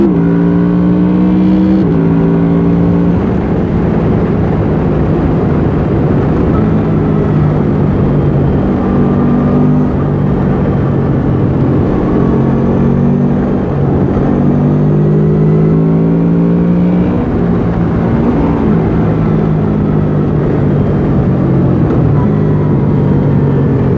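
Honda VFR800X Crossrunner motorcycle accelerating through quickshifter gear changes, a loud sustained engine drone whose pitch climbs and drops repeatedly with each shift, heavy wind rush over it, and a rider's voice faintly underneath.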